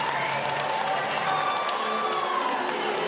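A boxing crowd applauds and cheers without a break, a dense wash of clapping and raised voices from an arena audience, loud and sustained throughout.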